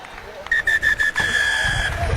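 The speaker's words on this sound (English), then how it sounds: "You'll know when I blow the whistle." A referee's whistle sounds at half time in an Under-18 National Cup final rugby match at Sixways: one long, shrill blast with brief wavering pulses, heard over outdoor crowd ambience.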